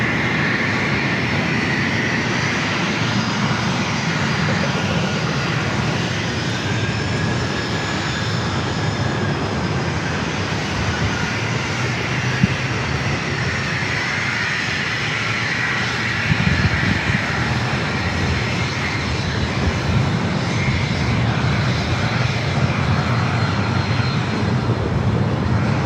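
A loud, steady airplane engine roars close by at San Diego airport. The drone holds without a break for the whole stretch, with no voices.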